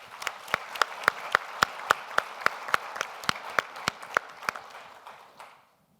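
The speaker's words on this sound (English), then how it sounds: "Let's give her a round of applause." A round of applause for a panelist at a climate justice activism and litigation event, with sharp, regularly spaced claps from a small audience over about five seconds, then trailing off into quiet.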